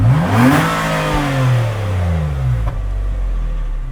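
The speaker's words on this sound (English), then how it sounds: "now we're gonna get some revs from the Maxima" A Nissan Maxima engine revs hard, climbing in pitch, dropping back and rising again in a loud, close roar over about four seconds, with no speech.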